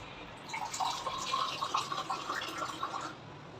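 Rice soaking water is poured into a pressure cooker for Hyderabadi egg biryani, a steady close trickle and splash of water that lasts about three seconds with no talking.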